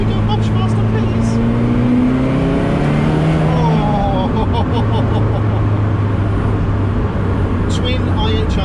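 Ferrari F40 twin-turbo engine accelerating hard, a loud, close, continuous roar that climbs in pitch through the gears, with someone talking over it from inside the car.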